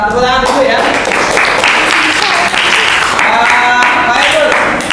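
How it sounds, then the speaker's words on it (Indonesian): Classroom audience applauding after a ninth-grade school presentation, a dense steady wash of many hands clapping throughout, with voices chattering underneath. "Tepuk tangan dulu ya."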